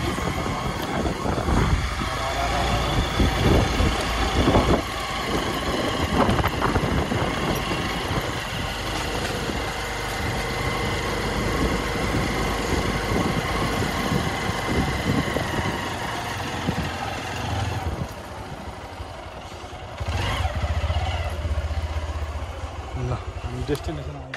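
A Hero motorcycle engine runs steadily while riding, a continuous low drone with wind noise, easing briefly near the end, under frequent talking.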